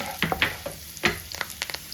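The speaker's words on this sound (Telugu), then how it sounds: "దీంట్లోనే నాలుగు వెల్లుల్లి వేసుకోండి" Short bursts of sizzling and spattering as garlic cloves fry in tempering oil in a pan, with a few clinks of a utensil, close and fairly loud over a soft background hiss.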